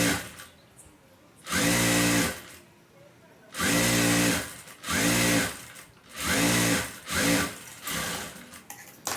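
A sewing machine stitches a waist belt onto a garment in short, loud bursts of rapid mechanical whirring. The bursts come roughly every second or two, separated by brief quiet pauses, with no talking over them.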